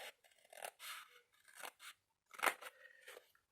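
Scissors cut through material for a large document holder in short, close, crisp snips. Several quick cuts come in a loose rhythm, with brief pauses between them and no voices over the sound.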